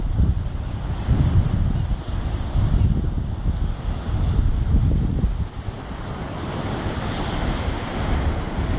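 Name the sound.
rough sea waves breaking against a rock wall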